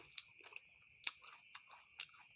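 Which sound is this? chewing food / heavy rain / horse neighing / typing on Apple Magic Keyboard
chewing food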